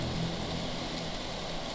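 Steady rain falls in the video game L'Architecte des Rêves, an even hiss filling the short stretch with no other sound over it.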